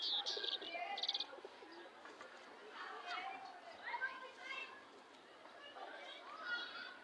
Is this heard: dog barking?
no